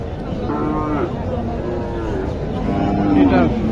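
Sahiwal heifer mooing at a busy cattle market in Naogaon, two drawn-out low moos, one near the start and a louder one near the end, over crowd chatter and market noise.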